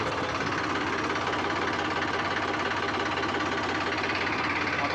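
A diesel farm tractor runs steadily close by, a continuous rough, knocking engine drone that holds an even level for the whole stretch with no voices.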